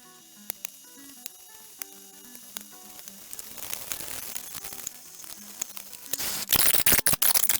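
Falafel balls dropped into oil heated to 325 degrees, starting with faint clicks and light crackle that grows into a steady close sizzle, then turns loud and spattery toward the end.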